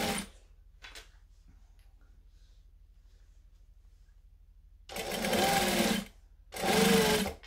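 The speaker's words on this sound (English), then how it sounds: "And then stitch as close to that edge as I can without running off it." A sewing machine stitches along the edge of a bag in two loud bursts of rapid whirring, separated by a quiet stretch with faint ticks and a low hum.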